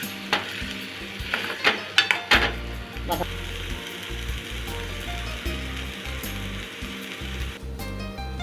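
Prawn masala with chilli and spice powders sizzles and fries in oil in a pan while being stirred, with loud clanking scrapes of the spoon early on and a steady crackling sizzle beneath.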